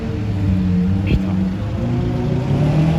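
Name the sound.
Bugatti Chiron engine revving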